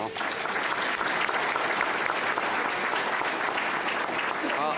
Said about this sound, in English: Mr. Hunter, give him a round of applause.